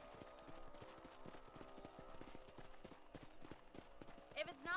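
Horse hooves clip-clopping at a steady trotting rhythm while riding in the video game Red Dead Redemption, with game speech and sound effects mixed over the hoofbeats.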